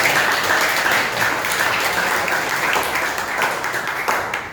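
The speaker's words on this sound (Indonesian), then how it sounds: "Tepuk tangan buat Azam." Dense, loud applause from an audience in a session on managing emotions, sustained clapping for a participant that fades slightly at the end.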